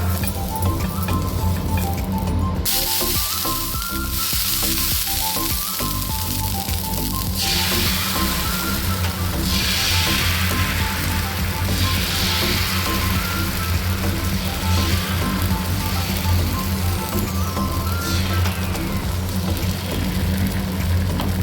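Ragi dosa batter poured onto an oiled griddle, giving a loud continuous sizzle with a steady crackle, interrupted by brief scraping and clinking as the batter is spread, with no talk.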